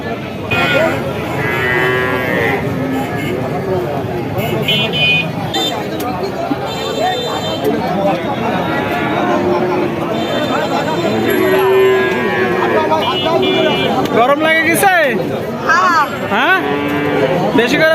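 Several Friesian and crossbred cows moo repeatedly, some near and some farther off, over a continuous background of crowd chatter at a busy cattle market in Bangladesh.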